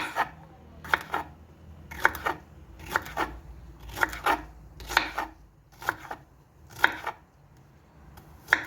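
Jalapeño peppers are sliced for pickle with a knife on a cutting board: a steady run of close, sharp chops, often in quick pairs, at a fairly even rhythm with nobody speaking.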